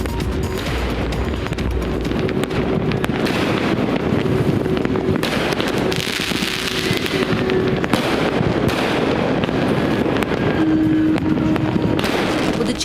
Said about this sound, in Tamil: வண்ண வண்ண பட்டாசுகள் வானையே கலைவண்ணமாக்கின.